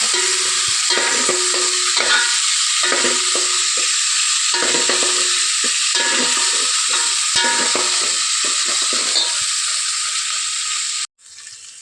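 Tomatoes and chillies frying in a pan give a loud, constant sizzle while a spoon stirs them in quick, rhythmic scrapes; the sizzling cuts off abruptly just before the end.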